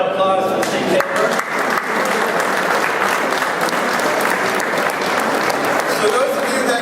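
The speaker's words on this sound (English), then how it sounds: "So I just want to have a round of applause to the state chamber." An audience at a Business Day gathering in the Maine State House gives a loud, sustained round of applause for the state chamber, dense clapping continuing throughout with faint crowd murmur and voices mixed in.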